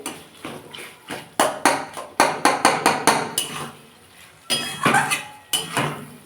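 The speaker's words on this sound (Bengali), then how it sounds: "মশলাটা ভালো করে কষে নিতে হবে" Spices stir-fried with a spatula in a pan for a cauliflower and pea curry, a run of loud metallic scraping clanks in quick rhythmic bursts with a short pause midway, very close.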